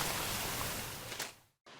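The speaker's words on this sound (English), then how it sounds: "that's a falling brook the whole way" Water of a falling brook rushes loudly and steadily as a broad close hiss, dropping out briefly near the end before the flow noise returns.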